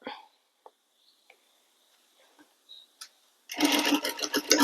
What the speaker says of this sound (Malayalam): അപ്പം നമുക്ക് ഇവിടെ വെച്ച് തയ്ക്കാം.